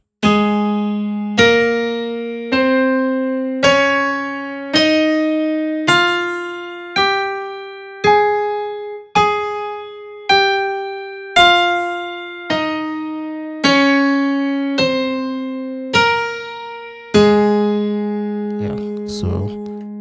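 A flat major scale on keyboard, played with both hands together, sounds as roughly fifteen separate struck notes. Each rises then falls in pitch and decays, ending on a held final chord. It is alone and clear, with no talking.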